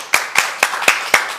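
Five or six sharp, evenly spaced claps ring out close by in a studio audience welcome for a guest, a short rhythmic burst with no voices.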